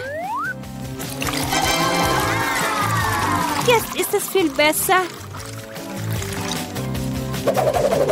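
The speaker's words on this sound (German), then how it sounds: "Ich brauche eine erfrischende Dusche." Water pours and gurgles in a cartoon kitchen challenge scene, splashing briefly amid music and a voice talking over it.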